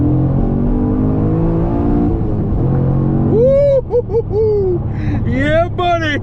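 Cammed Chevrolet Camaro Z/28 V8 accelerating hard through the gears, a loud rising engine roar with revs climbing, dropping at a shift, then climbing again, heard from inside the car while a person whoops and talks over it.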